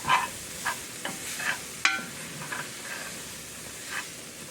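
Holy trinity vegetables softening over low heat in a dark roux for New Orleans gumbo, giving a soft, steady sizzle with a few light stirring scrapes and clicks, no voices.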